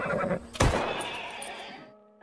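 A horse in a film gives a loud, close whinny that rises sharply and then trails off into a fading, wavering neigh lasting about two seconds.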